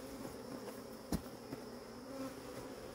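Honey bees buzz in a steady, close drone during a beehive inspection, with a brief thump partway through and no voices.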